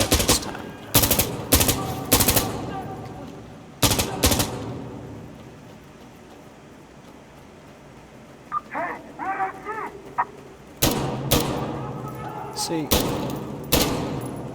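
Gunfire in the video game Insurgency Sandstorm comes in loud, sharp bursts near the start and again toward the end, with a quieter stretch in between and someone talking over parts of it.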